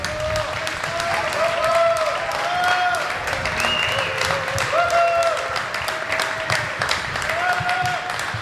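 Audience applause at a political-electoral reform congress at a university in Mexico, continuous clapping from a sizable crowd under live music with a melodic line running through it, with some speech mixed in.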